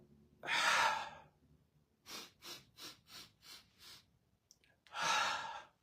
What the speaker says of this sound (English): We're going to do 6 very short breaths that should equal 1 breath at the top. You should have a full belly breath